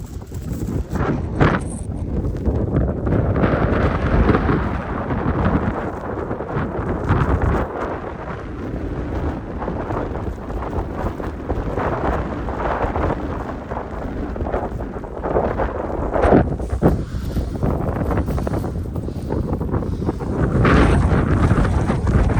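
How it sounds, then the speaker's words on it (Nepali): Strong mountain wind on a snowy trail to Tilicho Lake buffets the microphone in loud, roaring gusts that rise and fall continuously, with no voices heard. "बाटो हावाले हिँड्नै दिएको छैन"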